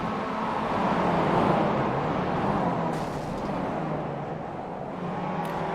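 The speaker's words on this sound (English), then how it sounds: "I even like the sound of these cars, honestly. They got that whine to them." Onboard a Mazda MX-5 Cup race car, a steady engine drone with a whining edge carries on at high revs, loud and close. Wind and road noise mix in, and the pitch rises slightly and then settles.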